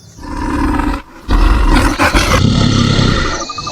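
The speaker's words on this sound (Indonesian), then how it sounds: "Beruang." A bear lets out a loud, close, rumbling roar in two long bursts separated by a short pause.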